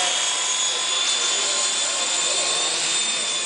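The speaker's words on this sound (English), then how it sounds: "I'd say probably the best helicopter I've ever flown." V913 400-size four-channel fixed-pitch RC helicopter hovering at half throttle, a steady high-pitched motor and rotor whine with constant loudness and no breaks.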